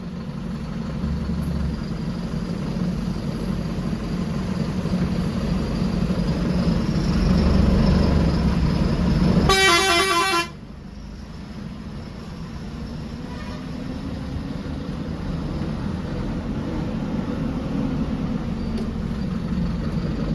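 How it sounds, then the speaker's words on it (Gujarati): Inside an Eicher AC sleeper bus crawling through rainy traffic, a low engine rumble runs throughout, broken midway by a single loud horn blast lasting about a second. "વરસાદ છે એના કારણે થોડું ટ્રાફિક પણ છે તમે જોઈ શકો છો"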